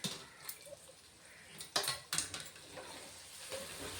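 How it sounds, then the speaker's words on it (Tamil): Pieces of eggplant fry in hot oil in a pan, giving a faint, steady sizzle with a few louder clinks and scrapes of a spoon, close but quiet, with no talking. "அந்த எண்ணெயில் பாதி காய் போட்டுட்டேன். இது நல்லா ஃப்ரை ஆன பிறகு மறுபடியும் திருப்பி விட்டு அப்படியே எடுத்துடலாம்"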